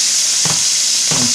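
Steak sizzles loudly in a hot pan with a constant close hiss, broken by two short stirring or scraping movements.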